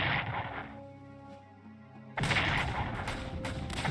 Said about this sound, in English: Bomb this with a blimp